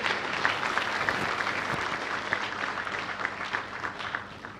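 An audience at a Tanzania–Uganda business forum applauds Ugandan President Yoweri Museveni, a dense sustained round of clapping from a large crowd that fills the whole stretch evenly and loudly, with no voices standing out.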